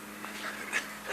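A dog gives a few faint, brief whimpers and pants over a quiet background hiss, with no talk.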